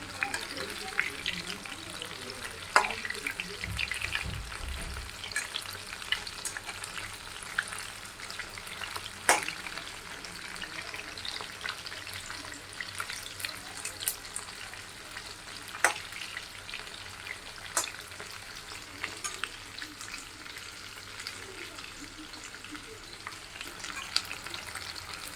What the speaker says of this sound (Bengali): চিকেন পকোড়াগুলো করছি।